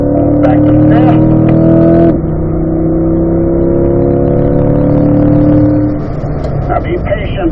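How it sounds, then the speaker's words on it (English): A race car accelerates hard out of a corner on a track, engine droning loud and close in a steady high-revving tone, then easing off as the throttle lifts near the end. "Accelerate hard as we leave the corner and then smoothly come off the gas"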